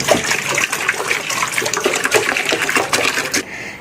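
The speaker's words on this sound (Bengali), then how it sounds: "দেখুন আমি কত পরিমাণ জলটা রেখে দেবো এর মধ্যে।" Water pours steadily into an idli cooker fitted with a dhokla stand, set up for steaming a palm-pulp cake; a continuous splashing gush runs close and fairly loud for over three seconds, then stops abruptly.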